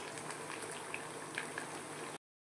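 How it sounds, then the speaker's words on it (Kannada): Fish frying in hot oil in a home kitchen, a steady close bubbling crackle with occasional sharper pops, then abrupt silence at the end. "ಈಗ ಫಿಶ್ ಎಣ್ಣೆ ಹಾಕಿದ್ದೀವಿ ಬೇಯ್ತಾ ಐತೆ ನೋಡಿ"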